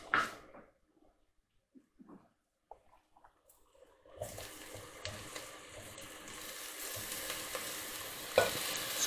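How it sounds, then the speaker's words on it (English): Browned beef goes back into a hot pot and starts frying, a steady close sizzle building after a few quiet clinks and scrapes, with occasional stirring knocks. "we're now going to add the beef back to the pot"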